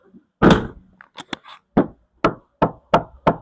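Knuckle knocks on a Suzuki XL7 door panel fitted with VTech sound-deadening material: a first heavier knock, a few small taps, then five evenly spaced dull thuds, close and fairly loud with no talking.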